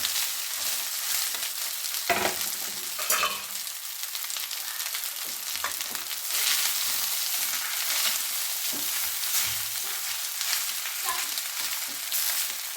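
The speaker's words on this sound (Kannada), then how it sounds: "ಇವಾಗ ಏನಿಲ್ಲ ಇದು ಅನ್ನ ಇರುತ್ತೆ ಅಲ್ವಾ ಅನ್ನ ಮಿಕ್ಸ್ ಮಾಡ್ಕೊಳ್ಳೋದು" Cooked rice stirred into browned fried garlic in a pan for garlic rice, a steady close sizzle with occasional scraping spatula strokes throughout, no voices.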